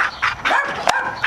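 Small brak hound puppies yapping in a kennel box, a few sharp, close bursts of barking with short whimpery yips in between.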